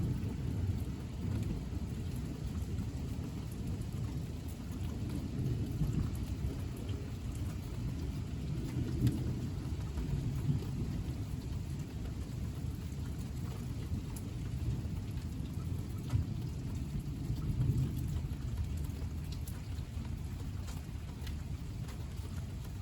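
A thunderstorm rolls on with steady heavy rain and a deep rumble of thunder, a continuous dense wash of noise throughout, with no distinct single crack standing out.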